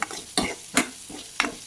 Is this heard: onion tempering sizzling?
yes